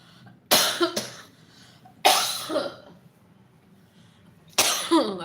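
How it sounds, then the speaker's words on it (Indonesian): Three separate bursts of coughing, a double cough followed by two single harsh coughs, fairly close with quiet pauses between. "Batuk."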